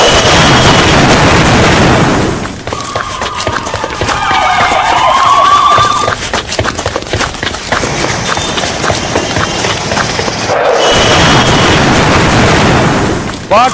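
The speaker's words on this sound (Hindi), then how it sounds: "पाक के पुलिस ट्रेनिंग कैंप में गाड़ी जाकर टकराई विस्फोटक से भरी, उसके बाद ग्रेनेड अटैक।" Explosions and blasts from an explosive-laden vehicle and grenade attack at a police training camp in Pakistan, loud and dense, with a sharp break partway through and a siren-like tone rising over the din.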